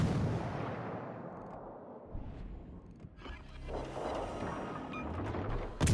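A light cruiser in a naval warfare video game fires a salvo from its guns: deep, rumbling booms roll out one after another, then a final sharp blast at the end.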